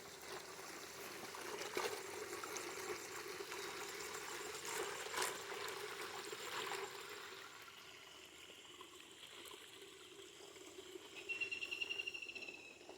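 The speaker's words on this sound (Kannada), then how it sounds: "ನಾವು ತೋಟ ಮಾಡುವ ನೀರು ಕೂಡ ಜುಳು ಜುಳುನೇ ಹರಿತಾ ಇದೆ" Pumped groundwater for a farm plantation flows and trickles in a steady, faint babble. Insects chirp softly in the background, and a high-pitched chirping grows louder near the end.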